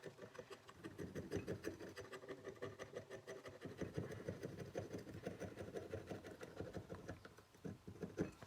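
Old varnish being scraped from the inside of a BMW motorcycle carburettor with a small tool, giving a steady close-up scratching and rubbing with quick repeated strokes, fairly quiet and without talk.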